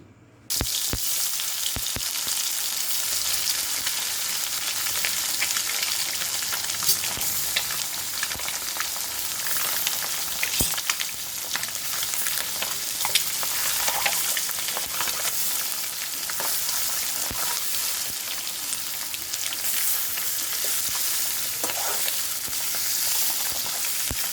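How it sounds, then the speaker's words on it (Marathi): Boiled eggs rubbed with turmeric, salt and biryani masala fry in oil with a continuous bright sizzle, broken by occasional clicks and scrapes of stirring. "आता हे अंडे आपण थोडे तेलावर परतून घेणार आहोत।"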